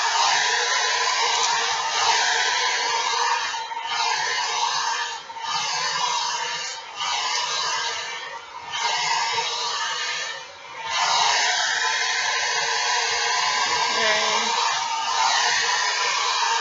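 A hair dryer blows steadily on a straight synthetic wig, a loud continuous airy whoosh with a few brief dips as it is moved, heard alone without talking.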